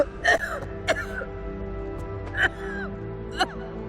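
A video game character coughs and clears her throat in four short, strained bursts, with faint whimpering sounds between them over a low steady hum.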